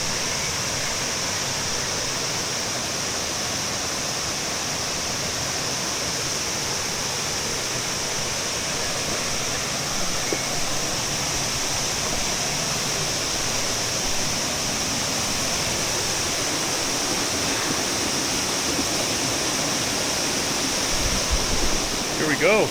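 A waterfall in a canyon in central Chiapas, Mexico, gives a steady, dense roar of rushing water that holds at an even level throughout, with no voices over it.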